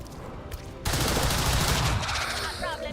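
Squad gunfire in XCOM 2 erupts after a quieter lead-in: a sustained, loud burst of rapid shots and impacts fills the second half, tapering into game effects near the end, with no talking over it.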